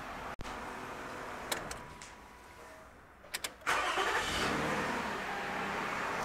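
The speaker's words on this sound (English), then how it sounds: "Let me restart the car." A 15-year-old Toyota with over 200,000 miles is restarted during an inspection: a few clicks, then the starter cranks briefly and the engine catches, settling into a steady nearby idle.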